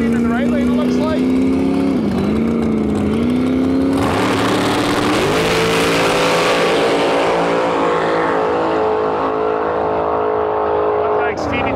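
Street cars drag racing at Saskatchewan International Raceway, including a Toyota Celica and a nitrous car: loud engines rev and climb through gears as the cars launch and pull away, under an announcer's continuous commentary.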